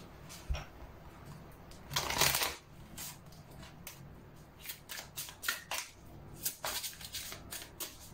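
Tarot cards shuffled by hand before a love card reading, heard as a series of short papery riffling and rustling bursts in close succession, one louder flurry early on, with no talking.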